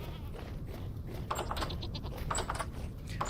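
A small goat bleats outdoors, a few short wavering calls close by over a low rustling background, with no one speaking.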